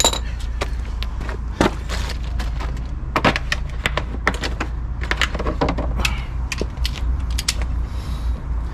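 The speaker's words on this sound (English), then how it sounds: "Let's get a torque wrench." Ratcheting clicks and creaks from a torque wrench tightening a wheel bearing on a Mk5 Volkswagen Golf, with sharp close-up ticks in irregular bursts over a steady low hum and no talk.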